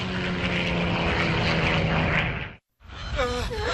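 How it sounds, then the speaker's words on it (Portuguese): A low-flying propeller airliner roars loudly and steadily, a dramatized crash of Air Midwest 5481, then cuts to a brief silence before engine noise resumes with a rising whine. "A comandante Kate Leslie luta desesperadamente para fazer seu avião subir, mas ele não responde."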